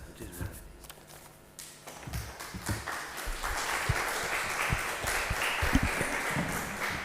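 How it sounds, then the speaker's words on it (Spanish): Audience applause in a lecture hall at a talk on musical iconography, starting faint under a voice and swelling into steady clapping from many hands that continues to the end. "No aplaudir antes de ver lo que hay, que después igual nos gusta"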